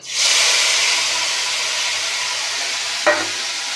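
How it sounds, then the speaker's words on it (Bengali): Fish frying in hot oil in a kadai tempered with nigella seeds, a loud steady sizzle and hiss throughout with a brief clatter near the end. "মাছের ঝাল করার জন্য কড়াইতে তেল দিয়ে দিচ্ছি, একটু কালো জিরে ফোড়ন দিয়ে দিলাম। এবার মাছটাকে দিয়ে দিলাম"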